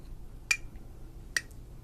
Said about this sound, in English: So now I'm going to demonstrate clapping all the different notes.